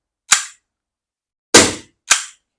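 A Double Bell G17 gas airsoft pistol fires empty without BBs: three sharp, close gas pops, one alone and then two in quick succession, each with a short hissing tail.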